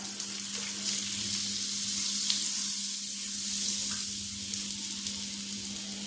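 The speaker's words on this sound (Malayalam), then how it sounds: "അപ്പം ഞാനൊരു പാൻ വെച്ചിട്ടുണ്ട്, അത് ചൂടായിട്ടുണ്ട്. ഇനി ഞാൻ അതിലേക്ക് ഈ ഒരു പീസ് ബട്ടർ കൂടെ ഇട്ട് കൊടുക്കുകയാണ് കേട്ടോ." A piece of butter sizzling in a hot pan for an omelette, a steady, loud, even hiss that runs without a break, with no talk.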